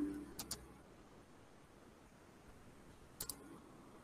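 A computer mouse double-clicked twice, two quick paired clicks near the start and again a few seconds later, faint and close over quiet room tone.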